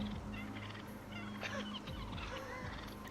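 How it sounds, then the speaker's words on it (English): Turkeys gobbling and calling on a roadside, several overlapping bird calls against steady outdoor background noise, fairly close and continuous. "Get them turkeys off the road, sir."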